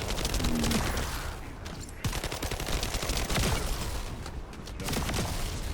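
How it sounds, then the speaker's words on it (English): Rapid automatic fire from a gold SMG in The First Descendant, a dense stream of shots running nearly the whole way with a brief gap partway through, loud and close amid game effects. "I definitely like this gold SMG a lot."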